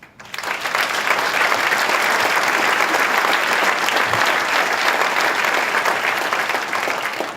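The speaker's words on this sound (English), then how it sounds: "give yourself a large round of applause" An audience at a city celebration event breaks into a large round of applause, a sustained, dense clapping that starts abruptly and holds steady at full volume for several seconds.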